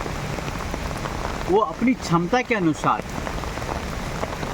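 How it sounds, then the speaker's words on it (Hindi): Steady rain patters on a studio roof overhead, a dense hiss throughout, while someone speaks briefly in the middle. "विश्लेषण करते करते स्टूडियो में बारिश हो गई"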